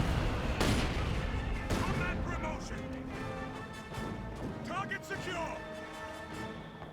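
Gunfire and explosions from a Company of Heroes 2 match with Stuka dive bombers and tanks, dense, steady battle noise layered under continuous talk.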